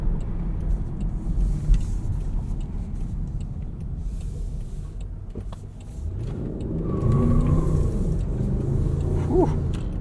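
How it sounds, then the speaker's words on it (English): A 2023 Range Rover P530 SE LWB launches hard in dynamic mode with its tires spinning. Its loud engine rumbles steadily from inside the cabin and swells into a heavier roar partway through. "Spinning the tires off the line there"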